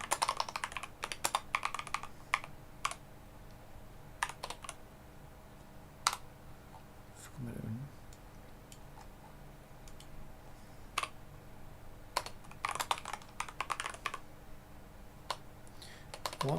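Bursts of computer keyboard typing during indie gacha game development, irregular clusters of crisp key clicks separated by quiet pauses, close and fairly loud throughout.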